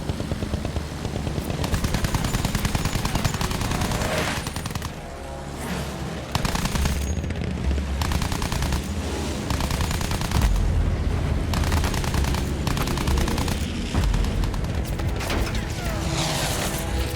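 Heavy, continuous gunfire in a World War I battle in Battlefield 1, with machine-gun bursts rattling almost without pause, loud and close, with brief lulls between volleys.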